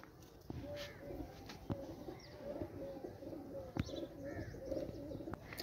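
Umbrella-type fancy pigeons cooing at close range, soft repeated low coos in a steady rhythm with a few brief chirps and clicks around them, no talk over them.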